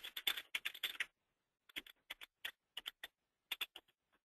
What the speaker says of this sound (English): If I can type quickly today.